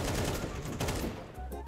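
AK rifle fire in Counter-Strike 2, several loud rapid bursts of shots packed into under two seconds, punchy and close.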